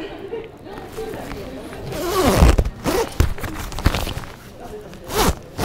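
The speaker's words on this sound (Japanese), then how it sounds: "ファスナーも上げやすい。" Zipper on a Patagonia Houdini jacket pulled up in one smooth go, a rasping scrape rising mid-clip among rustling fabric, close to the mic with a person's voice around it.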